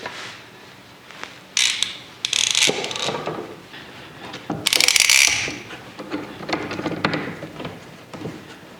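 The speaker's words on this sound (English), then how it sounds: "I'm going to take this front cover here and just clamp it in place." A clamp is worked onto a loose front cover panel of a wooden attic access box, giving several close, bursty ratcheting clicks and mechanical rattles in separate spurts.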